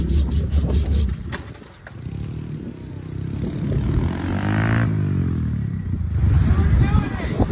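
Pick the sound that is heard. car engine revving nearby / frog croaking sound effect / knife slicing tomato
car engine revving nearby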